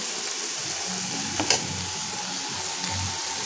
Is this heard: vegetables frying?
yes